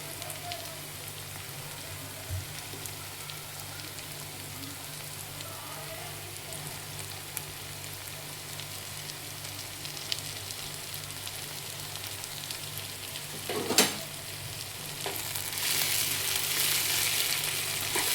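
Capsicum frying in a pan for pav bhaji, a steady close sizzle that holds throughout and swells louder and brighter near the end.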